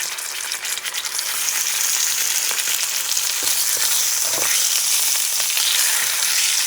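Lamb pieces searing in coconut oil in a pan: loud, continuous, hissing sizzle close up, with occasional pops and the scrape of stirring, and no talking.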